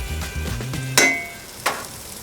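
A T-bone steak sears in a hot pan with a low, steady sizzle, broken by two sharp clinks of a utensil against the pan.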